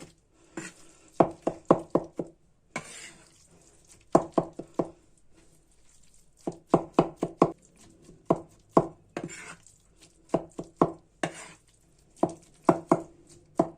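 Cooked onions chopped with a zırh, a two-handled rocking mincing knife, on a board for Hatay-style babaganoush: steady bursts of quick, close, crisp knocks with short pauses between runs, alone without talk.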